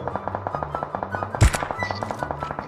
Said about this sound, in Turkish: Buradan da atış sesleri var